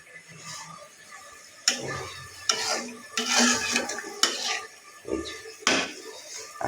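Young pigeon meat is stirred and braised in a pan with water added, with repeated spatula clanks against the metal over bursts of sizzling and bubbling, close and uneven in rhythm.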